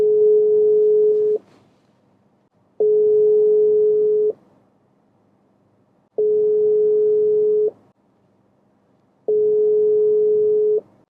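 A steady electronic tone repeats in four even beeps with gaps of silence between them, loud and clear, like a phone line signal.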